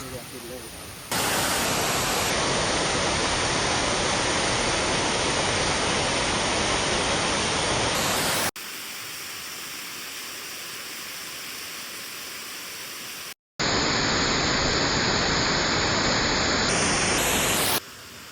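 A monsoon-swollen waterfall at Dabbe Falls in Karnataka roars as a loud, dense, unbroken rush of water, heard in several stretches split by abrupt cuts.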